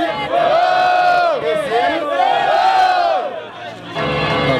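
Battle rap audience at an outdoor freestyle battle in São Gonçalo, Brazil, cheering and shouting together: a loud, sustained crowd roar with rising whoops that briefly dips near the end, then surges again.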